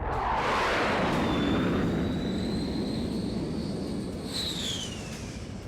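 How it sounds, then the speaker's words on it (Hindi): Fighter jets roar overhead above settlements in eastern Ukraine during a bombing raid, a loud continuous rushing engine noise with a high whine sweeping across, fading slightly near the end. "ये पुतिन के फाइटर जेट हैं जो यूक्रेन पर बमबारी कर रहे हैं।"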